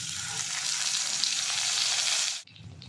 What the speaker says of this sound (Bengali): তেল গরম হয়ে এসছে, এবার মাছগুলো ব্রাউন ব্রাউন করে ভেজে নেব।